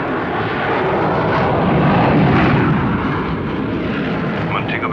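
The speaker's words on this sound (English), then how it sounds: "Roger, Transcanada Flight 885 is ready for takeoff." Jet airliner of Transcanada Flight 885 rolling for takeoff in a strong wind, a loud, steady broadband engine roar that swells slightly midway and holds without break.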